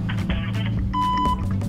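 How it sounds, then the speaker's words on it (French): Several short electronic beeps sound over music, with a clear sustained tone near the end, cueing karaoke singing to start. "Pour t'entraîner avec le karaoké, après le bip, c'est à toi."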